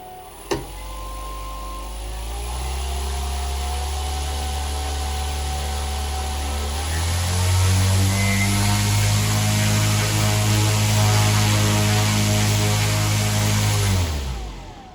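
MiToot FlyCat 5010 360kv brushless motor spinning up an HQprop 1050 propeller on a test stand, a steady loud whirring drone that rises in pitch and volume midway, holds, then cuts off near the end.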